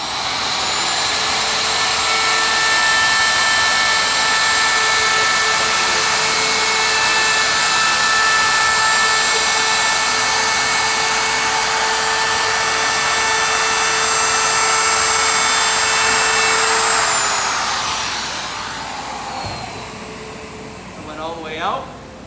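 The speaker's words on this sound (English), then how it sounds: "We always start with the router off of the board, and then we come down into it and go forward." A router cuts into a wooden lamp table top with a loud, steady, high-pitched whine held for many seconds, then winds down as the cut ends.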